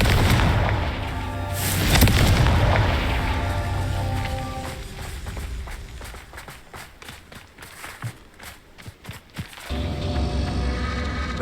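A Confringo fire spell from Hogwarts Legacy erupts in a loud, rumbling boom with a long tail, followed by a run of sharp impact cracks and thuds from continued spellcasting and combat.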